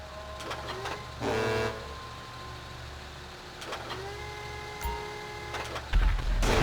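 A container handler vehicle in GTA V drones with a low engine rumble, broken by whirring motor bursts of hydraulic machinery and a short tonal beep, all close and mechanical.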